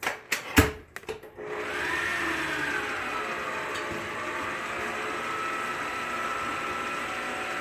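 An electric stand mixer with a paddle beats thick sweetened condensed milk. A few knocks come first, then a steady motor whir and churning hum run without a break, close and fairly loud.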